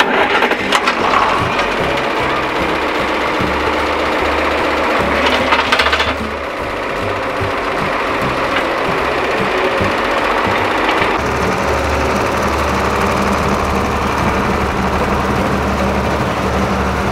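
Farm tractor engine running, a loud, close mechanical chugging and knocking with a steady low rumble that shifts in character partway through, with no talking.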